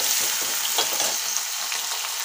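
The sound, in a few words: ground garlic frying in oil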